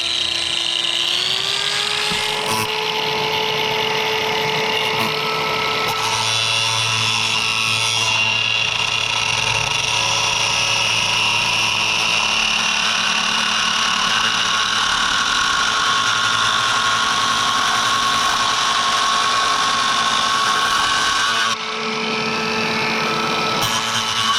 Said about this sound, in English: See when it does that? It's ripping apart. This is not a good brand of cutoff wheel.